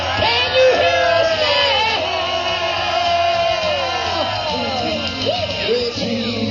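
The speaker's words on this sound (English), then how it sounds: "Now let me hear you scream" Rally crowd at a Tea Party Express arrival yelling, whooping and cheering loudly and continuously, with voices and amplified singing over the roar.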